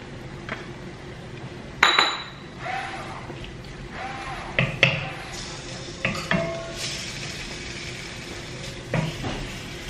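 Chicken strips frying in olive oil in a pan, with a soft steady sizzle beneath scattered utensil clinks, scrapes and stirring knocks at close range.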